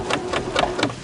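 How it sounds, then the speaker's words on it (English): A sewing machine running in a fashion class, giving a quick run of four rhythmic mechanical stitching thumps, close and loud with no talk. "helping them learn how to work a sewing machine"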